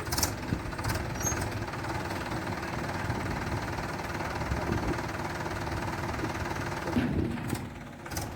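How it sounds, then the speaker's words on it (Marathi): A tractor engine being started rumbles and chugs steadily, a low rough idle that rises slightly toward the end. "बघा कसं चालू करते ती ट्रॅक्टर"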